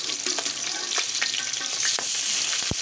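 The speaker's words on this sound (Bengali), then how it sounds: "মাছগুলো ভাজে নিতে আসছি" Fish frying in a pan on a wood-fired stove, with a steady, close sizzle and occasional sharp crackles and pops throughout, no voices.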